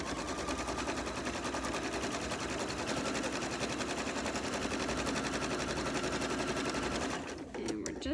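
A sewing machine runs a continuous fast stitch while top stitching along the edge of a cloth napkin, a steady close mechanical rattle that stops abruptly near the end, leaving a few handling sounds.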